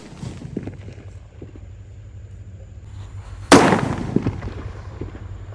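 A jumbo paper-wrapped mercon firecracker goes off outdoors with a single sharp, loud bang after a few seconds of quiet rustling, followed by a decaying crackle and scattered pops.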